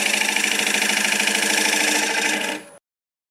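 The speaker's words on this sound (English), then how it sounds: "I'll just use this negative rake scraper to do this." Negative rake scraper cutting an end grain wooden apple bowl spinning on a lathe, a loud steady buzzing whine with fast rhythmic chatter that stops abruptly near the end, with no talking.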